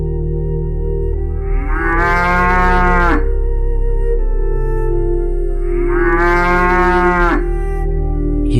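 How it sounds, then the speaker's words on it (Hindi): Two long, loud cow moos, one after another with a pause between, over a low steady background hum. "ये तो गायों की आवाज है।"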